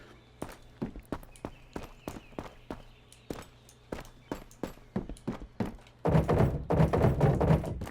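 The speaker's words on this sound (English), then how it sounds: "Sometimes I can't tell if I'm hearing my footsteps or enemy footsteps." Steady rhythmic footsteps in a first-person shooter game, evenly spaced thudding steps that quicken and grow louder and denser near the end as if breaking into a sprint.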